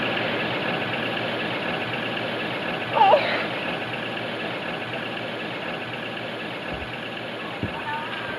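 A 1940s farm tractor engine runs at a steady idle, a constant low droning rumble close by, with a short faint whistle-like tone partway through.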